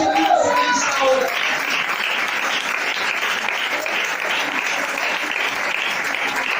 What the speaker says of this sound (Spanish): Si alguien puede dar un fuerte aplauso a Dios en esta hora.